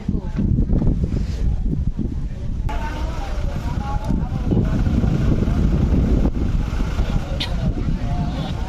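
Cool wind at a high outdoor spot rumbles steadily and loudly against the microphone throughout, while someone talks over it.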